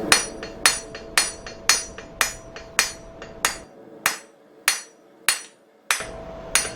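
A blacksmith's hammer rings on hot steel over an anvil while drawing out a tong tine, with about a dozen sharp, evenly spaced metallic strikes, each followed by a short ringing decay, close and clear with no talking.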